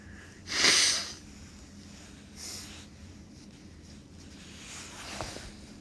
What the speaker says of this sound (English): gonna blow my nose one more time